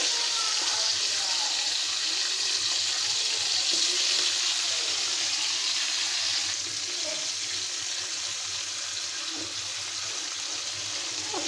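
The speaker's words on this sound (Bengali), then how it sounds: "মাছ একটা উল্টো পাল্টে দুটিতে আমি হালকা ভাজা দিয়ে নেব" Flipped fish fries in a pan with a dense, continuous close sizzle on both sides, easing slightly in the second half, with faint scattered clatter.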